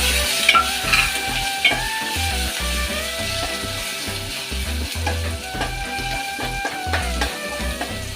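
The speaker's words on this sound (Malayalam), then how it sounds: "അതിനുശേഷം നമുക്ക് ഈ തക്കാളി ഇട്ട് ഇതിൽ വഴക്കും" Tomatoes sautéing in a pan with turmeric and fenugreek powder for a Kerala-style dried fish roast, with a steady close sizzle and scraping stirs throughout, plus rhythmic low thumps and tonal background sounds.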